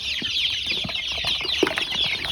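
A flock of nearly two hundred backyard chickens at feeding time, clucking and fluttering wings in a dense, continuous chatter close by, with no talking.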